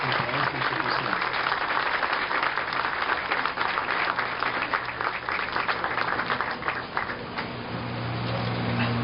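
Sustained, dense applause from an audience at a formal institutional ceremony honouring guests, loud and even for most of the span before thinning slightly at the close.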